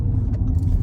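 A 2023 Audi E-Tron Sportback Prestige climbing a hill, giving a steady low rumble of road and tire noise from inside the cabin with no talk over it.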